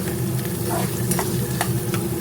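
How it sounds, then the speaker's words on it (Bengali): Chicken sizzles steadily in a hot kadai, with occasional stirring scrapes over the constant frying crackle; no voices. "চিকেনটা ভাজা ভাজা হয়ে গিয়েছে"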